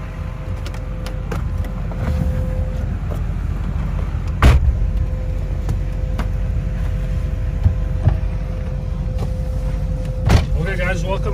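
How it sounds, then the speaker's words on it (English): The exhaust of a 2005 Chevy Silverado pickup with an automatic transmission rumbles in a steady low drone, broken by a few sharp clicks and thumps nearby. "Let's hear that exhaust real quick."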